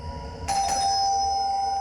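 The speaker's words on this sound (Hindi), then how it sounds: "कब से घंटी बज रहा है, सुनाई नहीं दे रहा है क्या?" A doorbell chimes once with a bright, sustained ring that lingers and fades slowly, close by and alone.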